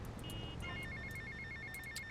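A telephone rings faintly in the video game GTA Vice City, repeated short electronic trills pulsing steadily beneath a busy, noisy game soundscape.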